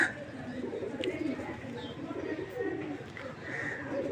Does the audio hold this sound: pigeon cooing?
yes